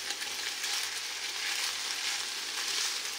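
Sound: stirring frying chicken fillet with garlic in pan

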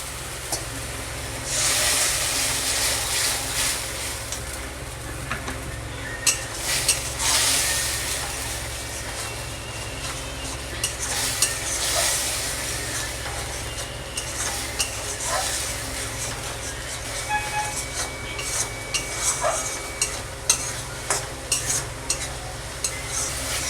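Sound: frying spice masala with a little water in a pan

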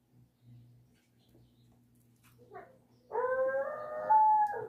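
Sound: dog barking

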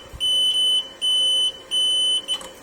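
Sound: battery restorer beeping warning for reversed clamp polarity

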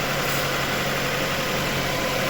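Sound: cold car engine idling

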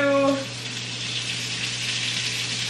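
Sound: oil sizzling in a pan

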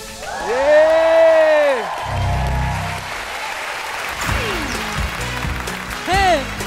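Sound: audience applause and cheering

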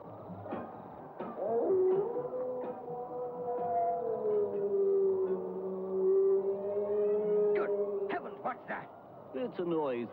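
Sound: cry of a hound on the moor

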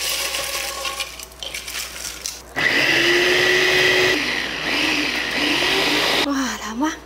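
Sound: blender grinding cooked shrimp shells

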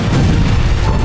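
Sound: explosion

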